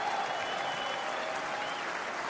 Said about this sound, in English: Got a big applause for 11 children